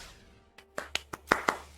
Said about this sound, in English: Polite clap for the opponent.